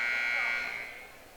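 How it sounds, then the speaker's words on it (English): A basketball arena buzzer sounds during a high school game's substitution, a loud, steady electronic drone that fades over about a second amid crowd noise. "As Cardinals make a quick substitution at the buzzer, Olsen checks back into the game."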